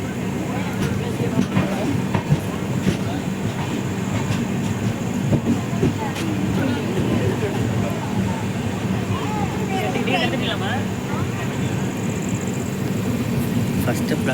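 Pamban Express passenger train pulling out of a station platform, a steady dense rumble of wheels and carriages rolling alongside at close range with faint rhythmic clatter, a constant loud wash throughout with some voices mixed in.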